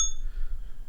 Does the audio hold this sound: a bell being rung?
yes